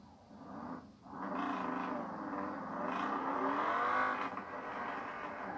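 A car engine in Forza Horizon 4 revs steadily and loudly throughout, with rising and falling tonal harmonics, a short dip near the start, then sustained high revs.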